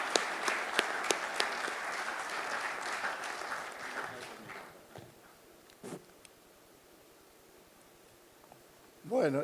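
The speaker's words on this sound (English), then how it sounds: "And an applause for the Secretary General." Delegates at a FIBA basketball federation congress give a round of applause that fades after about four seconds, followed by a quiet hall with a few scattered claps and a voice at the end.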